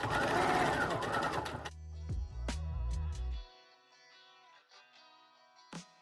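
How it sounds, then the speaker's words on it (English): A sewing machine stitches along the edge of a sublimated fabric scrunchie with a fast, close, rhythmic whirring run of under two seconds, followed by scattered soft clicks and a thud. "I'm just going to sew this right down the edge"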